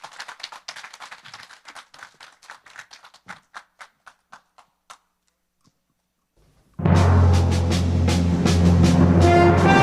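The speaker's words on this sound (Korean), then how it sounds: "박수 부탁드립니다." Audience applause at a commemorative talk concert: a scattered round of hand clapping that thins to a few isolated claps and fades out, followed by a short silence before loud music starts.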